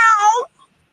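A person imitates a cat with a single drawn-out meow, loud and close, sliding in pitch and ending abruptly, followed by a brief faint sound.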